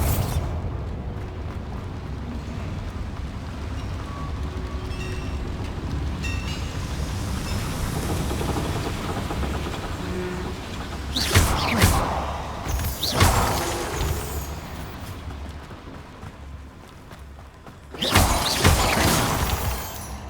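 Bombarda blasting spell in Hogwarts Legacy: a long roaring rumble is broken by loud shattering, crashing bursts of explosion and debris, with a final heavy blast near the end.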